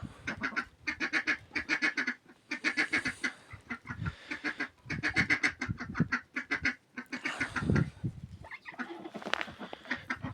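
Ducks quack repeatedly in loud, rapid bursts, several birds calling close by with short pauses between volleys.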